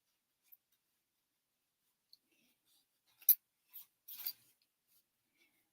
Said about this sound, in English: I kind of steer the paper and my scissors stay still.